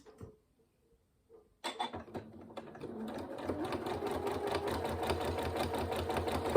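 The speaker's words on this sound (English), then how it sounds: "I'm going to start just sewing lines down" Sewing machine stitching straight lines down fabric for a zipped pencil case, starting after a few soft clicks and then running steadily and fairly loud with a fast continuous needle rhythm.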